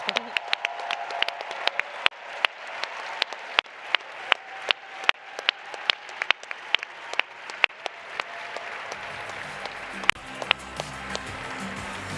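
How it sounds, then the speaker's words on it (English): An audience at a closing ceremony claps in an even, rhythmic beat as a team comes on stage. The sharp, loud claps repeat steadily over a crowd murmur and fade near the end. "make a thunder of applause for the team ChangeNOW"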